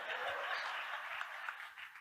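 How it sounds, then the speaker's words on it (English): A live audience claps for young people at a politics and progress event, a faint, steady patter of applause held throughout, with light chuckling underneath. "Y'all clap for the young people"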